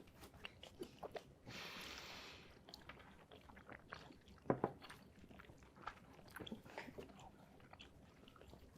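Someone chews food with their mouth close to the microphone, making soft, irregular wet crunches and squishes at a quiet level, with a brief rustle partway through.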